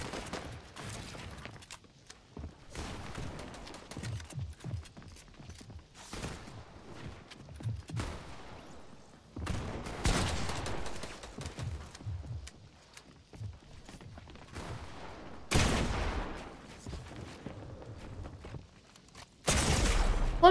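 Gunfire from shooting in Fortnite comes in scattered bursts of shots with gaps between them. Footsteps and movement sounds run underneath, and a few louder clusters of fire stand out near the end.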